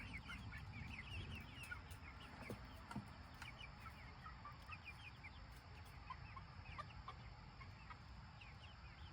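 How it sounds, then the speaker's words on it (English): Little chicks peep in a soft, busy chorus of high chirps over a low hum, faint and fairly close, continuing steadily throughout. "Hey, little chicks, want to say hi to the people in TV land?"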